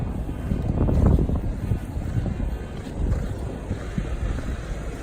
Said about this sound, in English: notice that this place windy